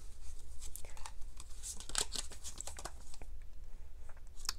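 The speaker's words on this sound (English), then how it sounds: "I'm gonna draw three cards" Tarot cards are drawn and shuffled from a deck, giving soft papery slides, flicks and crisp snaps close by, a quiet irregular patter with a few sharper card snaps in the middle.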